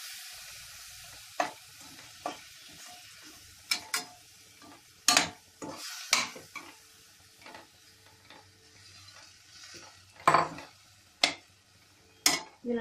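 Mutton pieces sizzle in a pan with sautéed onions and spice powder for a mutton varuval, with a steady low frying hiss broken by repeated sharp scrapes and clacks of a spoon stirring against the pan.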